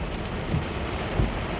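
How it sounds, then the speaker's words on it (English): Heavy morning rain pours steadily in Jamaica during a thunderstorm, a dense, loud wash of drops with low rumbles of thunder rolling underneath, no voices. "And look at this rain."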